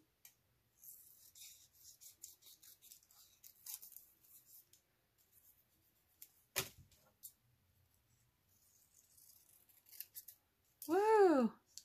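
Scissors snip through paper during a craft session making coffee-dyed envelopes: a series of short, crisp cuts at close range in a quiet room, ending with a voice's rising exclamation.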